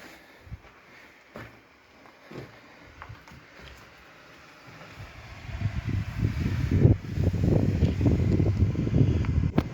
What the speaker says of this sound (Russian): Шумит ручей.